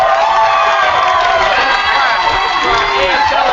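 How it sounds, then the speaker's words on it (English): An audience at a youth poetry slam semifinal in Norfolk claps and cheers loudly, a dense continuous roar of applause with whoops and shouts throughout. "Let us clap for the live stream and the internet"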